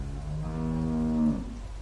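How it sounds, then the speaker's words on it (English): A cow moos once in a long, drawn-out call on a farm in The Walking Dead video game, loud and close, standing alone with no talk over it. "How do you like that cow, Clint?"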